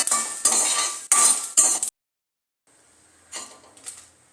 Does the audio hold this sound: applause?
no